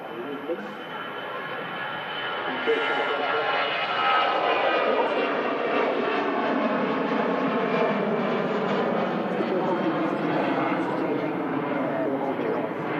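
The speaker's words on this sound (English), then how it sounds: "Operated by one of their Airbus A320 aircraft." An Airbus A320 passes at Manchester Airport with a broad, rushing engine roar that swells after a few seconds and holds loud and steady. Voices are faintly present beneath it.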